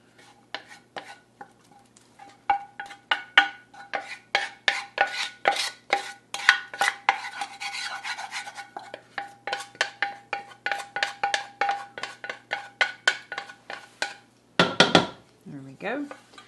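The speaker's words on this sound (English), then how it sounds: "now for the last part, we're taking our cooked collard greens and adding them right back in." Cooked collard greens being scraped and tipped back into a pan for winter squash soup, heard as a dense run of close metallic scrapes and clinks from a utensil against cookware, with a brief louder clatter near the end.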